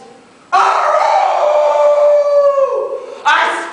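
A stage actor in a one-act high school play howls like a dog, a single loud, sustained, wavering cry that bends downward near its end before another sharp vocal burst begins, his voice imitating the animal.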